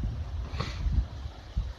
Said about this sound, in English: The wind's blowing me. That's why I'm shaking a little. A little gust here and there.